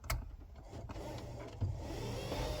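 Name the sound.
Holden VL electric window motor struggling to move window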